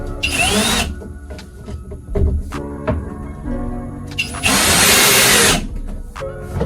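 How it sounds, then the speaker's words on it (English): A power drill whines in two sustained bursts as it drives screws into tiles, with softer knocks and handling noise between runs, close and loud. "So I'm going to push it in while I'm screwing it in."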